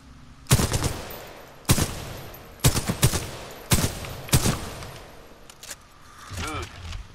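Weapon fire from a game of Titanfall 2: five sharp, loud shots at roughly one-second intervals, some followed by quick secondary cracks, then a short electronic warble near the end.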